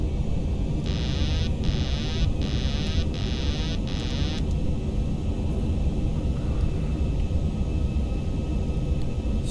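Airliner on final approach with flaps set in the X-Plane 11 flight simulator, a steady loud cockpit engine and airflow rumble with a repeating electronic beeping tone in four pulses over it.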